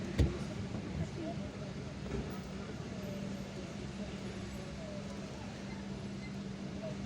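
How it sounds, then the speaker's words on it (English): Traffic heard from inside a car driving through city streets in Algiers, a steady low engine and road hum with a brief thump near the start and faint passing vehicles, under a low speaking voice. "so now there is traffic here"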